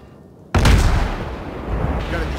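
Warship main guns fire in World of Warships, one sudden heavy boom that rolls into a long rumbling decay, loud and alone with no talk.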